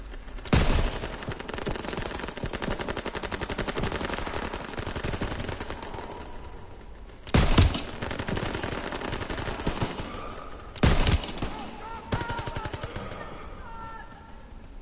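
Rapid machine gun bursts rattle through a video game firefight, with steady chattering fire broken by several louder close bursts.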